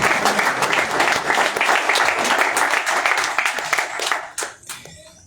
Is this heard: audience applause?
yes